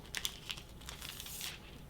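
A sheet of gold foil being handled, brief faint crinkling and rustling up close in a quiet room.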